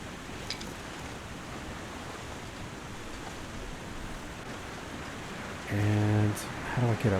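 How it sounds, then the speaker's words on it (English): Storm wind in the video game The Long Dark roars as a constant broad rushing noise, loud and steady, with a brief tonal game sound near the end. "Ooh, we got a storm, guys."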